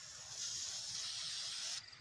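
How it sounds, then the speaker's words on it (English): An aerosol spray paint can hisses steadily as paint is sprayed onto a shoe rack, a continuous close airy rush lasting nearly two seconds before cutting off. "I am no good at the spray paint."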